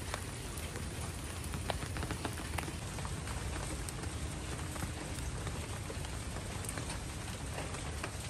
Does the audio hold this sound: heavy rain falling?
yes